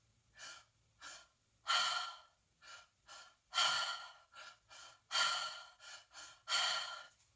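Forced breathwork breathing: sharp, deep inhales and exhales close to the microphone, alternating in a quick uneven rhythm, some breaths louder and longer than others, with no talk.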